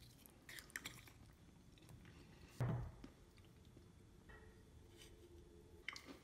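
Crunchy chewing of crackers from a 2017 MRE Chicken Noodles and Vegetables in Sauce ration, faint and close, with one louder bite-crunch midway over a quiet background.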